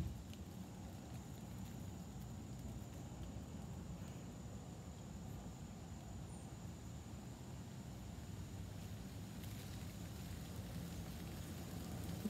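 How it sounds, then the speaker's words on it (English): Steady rain patters continuously in woods, a soft, even wash of falling drops with no voices, faint and constant throughout. "You can hear that rain."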